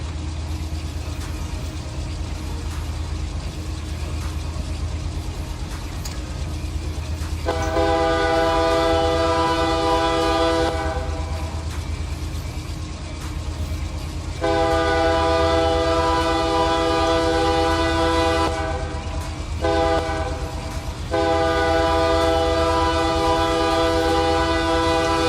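A BNSF ES44DC diesel locomotive on a high-priority intermodal train in Run 8 Train Simulator rumbles steadily throughout, its horn sounding in three loud blasts: a long one, a longer sustained one, then a final short pair.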